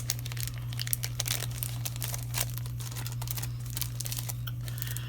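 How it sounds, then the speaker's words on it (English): Paper wrapping from a craft kit crinkles and rustles in irregular bursts, close by, over a steady low electrical hum. "Just want to put this back in the paper."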